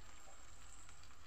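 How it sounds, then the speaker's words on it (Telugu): Brinjal pieces fry in a pan with a soft, steady sizzle that stays faint and even throughout, with no talking. "చూడండి వంకాయ ముక్కలు ఎంత బాగా ఫ్రై అయినాయో."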